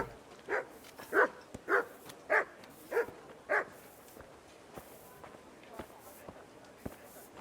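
Six quick, evenly spaced barks from a dog in a medieval town square in Kingdom Come: Deliverance, fairly close, followed by quieter ambient footsteps and faint clatter.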